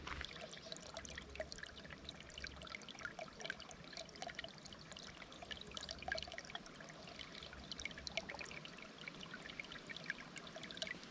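A quiet stream of water trickling and flowing steadily, faint and continuous, with no voices.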